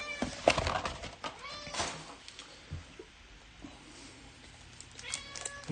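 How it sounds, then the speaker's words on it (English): A pet cat meows repeatedly and insistently indoors, loud and close, with a few yowls among scattered rustling and handling noises. "My cat's going nuts."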